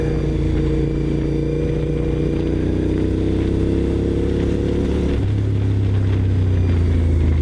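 A Castrol Honda SP1 motorcycle engine on the move, a loud continuous mid-range drone that shifts in pitch and drops to a deeper, steadier note partway through as the bike is ridden.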